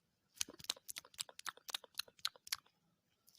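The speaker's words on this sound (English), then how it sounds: "this sound is called slurp" A mouth eats noisily, with a quick series of close, wet slurping and chewing smacks in an uneven rhythm, fairly faint, with no talk.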